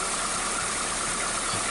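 2006 Hyundai Tucson engine idling roughly with a misfire, a close, steady mechanical clatter with faint uneven knocks and no talk.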